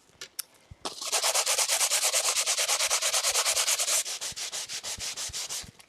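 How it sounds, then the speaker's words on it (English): Sanding disc fitted on a handheld ink blending tool rubbed back and forth across paper, a rapid rhythmic scratchy swish with about a dozen strokes per second, close and loud, going steadily for several seconds after a few light taps. "Holtz has sanding discs that you put on his ink blending tools"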